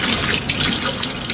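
Tap water runs steadily into a sink while raw liver is rinsed and squeezed by hand, a close, continuous splashing rush with no voices.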